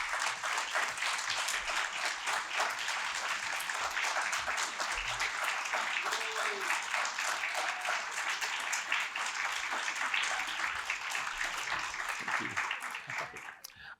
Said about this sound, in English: teams a round of applause.